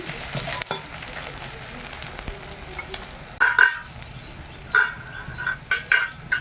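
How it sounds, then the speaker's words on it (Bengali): Onion, tomato and bay leaf frying in hot oil in a kadai, a steady sizzle with occasional stirring scrapes and a few sharper bursts, close and moderately loud, with no talking. "পেঁয়াজ আর টমেটো তেজপাতা দিয়েছি,"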